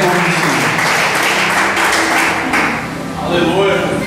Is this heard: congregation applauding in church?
yes